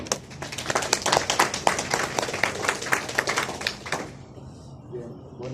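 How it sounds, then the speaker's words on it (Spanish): Audience applause welcoming a guest lecturer at a criminal procedure law class, many hands clapping steadily for about four seconds before fading out into room quiet. "le brindemos un fuerte aplauso para recibirlo"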